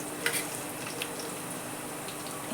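Chopped medium onions and green chillies fry in hot oil with mustard seeds, asafoetida and turmeric, a dense, steady sizzle that stays close and loud with a few small crackles and stirring scrapes.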